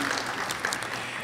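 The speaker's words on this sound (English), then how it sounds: "let's have a hand of applause for the musicians." Brief stretch of audience applause for musicians at a conference session, a dense even patter of many hands heard from a distance at low level.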